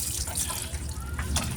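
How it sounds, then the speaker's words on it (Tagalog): Water running from an opened tap in a motorcycle brake-bleeding job, a soft steady trickle and splash close by, faint and brief, with a few louder spurts near the end. "Buksan natin tubig."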